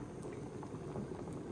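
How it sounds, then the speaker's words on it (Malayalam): Rice boiling in a pot of salted water, a steady close bubbling and rolling simmer that holds evenly throughout without any voices. "അപ്പൊ നമ്മുടെ അരി നല്ലോണം തിളച്ച് വന്നിട്ടുണ്ട്."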